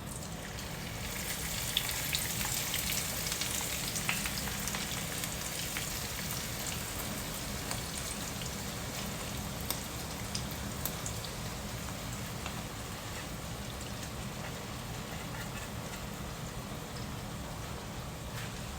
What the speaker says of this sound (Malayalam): അപ്പോൾ നമ്മൾ ഒരു ഒറ്റ സ്ലോട്ടിൽ തന്നെ നമ്മുടെ കല്ലുമ്മക്കായ മൊത്തം ഇട്ടിട്ടുണ്ട്. ഇനി ഇതൊന്ന് ഫ്രൈ ചെയ്യാം.